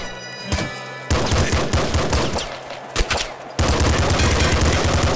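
Rapid bursts of video game gunfire from a gun in Nuclear Throne, loud and dense, with a short pause before the shooting resumes and keeps going to the end.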